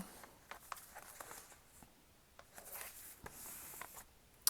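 A paper envelope is folded by hand for a junk journal, giving quiet, scattered scrapes and soft rustles in a hushed room.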